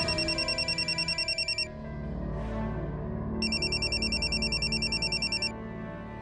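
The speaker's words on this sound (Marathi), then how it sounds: "फोन उचल ना, कोणाचा आहे?" A phone rings with repeated electronic trilling bursts, a pause in the middle, then the ringing resumes before stopping, indoors and fairly close.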